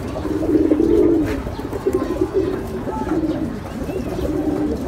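Pigeons coo steadily at a pigeon farm, a layered, soft, throaty murmur from several birds close by that swells and eases throughout, with faint chirps above.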